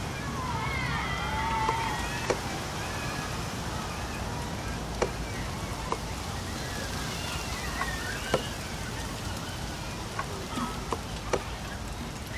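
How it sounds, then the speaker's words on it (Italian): Rain beginning to fall in the video game Heavy Rain, a soft constant patter with occasional sharper drips and clicks, while faint voices and tonal sounds drift in the background. "Inizia a piovere."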